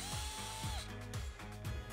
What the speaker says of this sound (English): I used a 1/8 inch drill bit to go all the way through the metal and the wood of the shaft